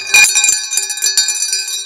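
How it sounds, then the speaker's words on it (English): A large secondhand bell rings with a bright metallic tone, several quick strikes and a sustained shimmering ring, loud and close with no voices. "We have this really large bell"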